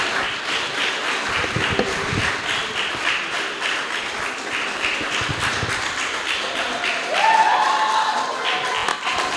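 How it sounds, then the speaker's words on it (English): Audience applause at a design panel session, many hands clapping steadily and fairly near for about nine seconds, a dense even patter with no talk over it. "let's clap again, this time for Joseph"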